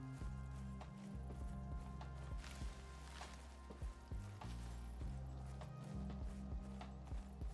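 Horse hooves clop at a steady running gait in a video game, a loud rhythmic series of repeated beats layered over constant game music and ambience, with no talking.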